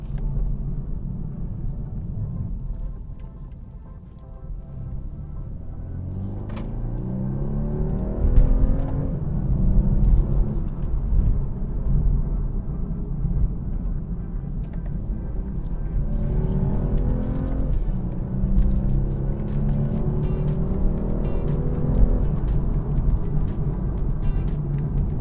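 A 2023 BMW G42 220i engine pulls steadily through rising revs while driving onto a motorway, a continuous close rumble climbing in pitch in two long sweeps, with no talk over it.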